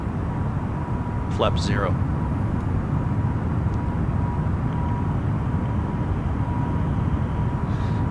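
An Airbus A320neo in Microsoft Flight Simulator 2020 accelerates after takeoff with a loud, steady engine roar, while a voice speaks briefly over it.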